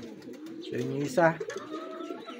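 Racing pigeons coo nearby in low, rolling throaty calls while a person speaks in Filipino over them.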